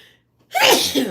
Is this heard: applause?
no